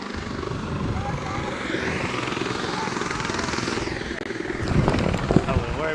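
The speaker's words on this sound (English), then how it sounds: "Unfortunately, the helicopter's got to land." A helicopter lands near a rugby field at a women's final, its rotor and turbine droning loudly and then winding down, with people talking over it and a few sharp knocks near the end.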